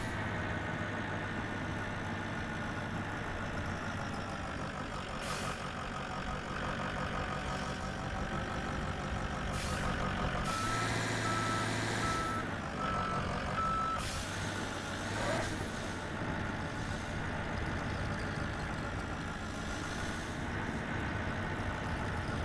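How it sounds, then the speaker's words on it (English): A snow plow scrapes along the road in the Snow Plow video game, a steady truck engine drone with repeated reversing beeps and occasional louder grinding bursts, continuous and moderately loud. "sound like I'm dragging my plow."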